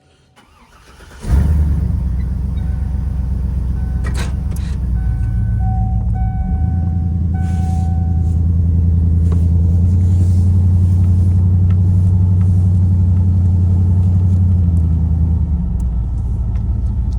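A 2003–2007 Chevrolet Silverado 2500HD pickup with new Bilstein shocks and steering stabilizer, its engine catching and settling into a loud, steady low rumble as the truck drives along the road close by.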